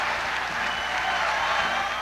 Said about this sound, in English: Applause for Bill Clinton tonight at the White House as he accepts a peace award